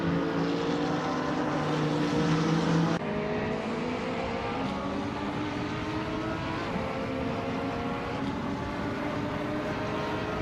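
A 2016 Acura XGT3 races in a video game, its engine a steady, loud droning whine with layered harmonics that shift in pitch as it holds speed, heard alone for the whole stretch.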